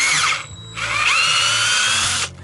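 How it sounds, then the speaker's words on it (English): A power drill bores into a wooden trailer bunk to make bolt holes, loud and close, two sustained whining bursts separated by a short pause, with no talking. "so when you are drilling through, you don't drill all the way through"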